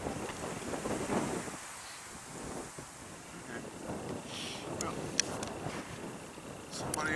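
Gusty wind buffeting the microphone at an outdoor long-range shooting range, a continuous rough roar rising and falling, with faint voices underneath.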